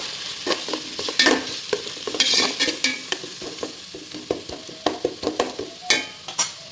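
Tomato and coriander sautéing in a pan for chicken biryani, with a continuous close sizzle broken by frequent clattering spoon strokes and scrapes against the pan.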